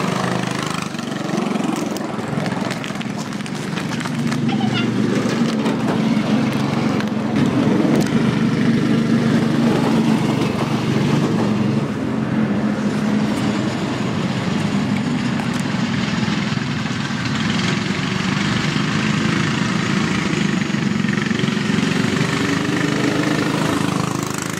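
A racing go-kart engine runs steadily throughout, a continuous buzzing drone heard close and loud with no talking over it.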